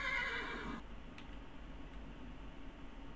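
Minecraft horses give a short, bright whinny at the start. It cuts off after under a second and leaves faint background noise with a few soft ticks.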